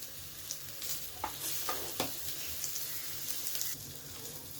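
Surmai fish slices frying in a little oil in a small pan, a soft steady crackling sizzle with a few brief louder pops, fairly quiet.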